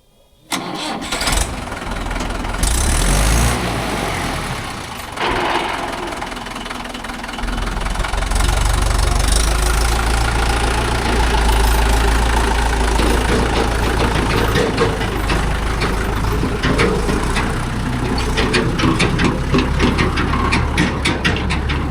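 A JCB 3DX backhoe loader and a Mahindra 415 DI tractor with trolley run while soil is loaded; an engine cranks and starts, then settles into a loud, steady mid-pitched rumble with knocking idle throughout, no talk.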